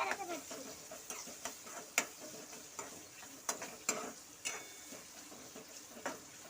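A spoon stirring chicken rassa curry in a pan over heat, with soft sizzling underneath and irregular clinks of the utensil against the pan, fairly quiet and close.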